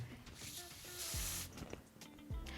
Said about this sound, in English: So I'm gonna start right here and spray a little bit here.